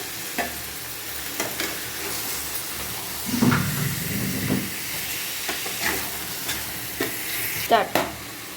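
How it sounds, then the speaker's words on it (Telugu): Washed chicken pieces frying in hot oil while being stirred, a steady close sizzle with a louder hissing burst and repeated scrapes and clinks of the spoon against the pan. "ఇలా బాగా నూనె బయటకు వచ్చిన తర్వాత కడిగి పెట్టుకున్న చికెన్ని వేసుకోవాలన్నమాట."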